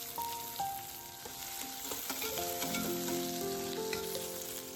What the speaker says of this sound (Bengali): এবার কড়াইতে তেজপাতা, জিরে ফোড়ন দিয়ে দেব ওর মধ্যে ক্যাপসিকাম।